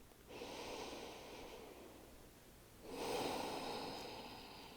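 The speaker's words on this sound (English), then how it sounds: "Slow, deep breath." Two slow, deep breaths taken during a yoga class, each a long, soft airy rush through the nose, the second louder and fuller, close and alone with no voices.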